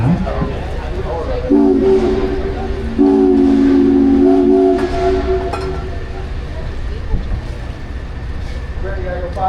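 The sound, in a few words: steam whistle of the Minne-Ha-Ha steamboat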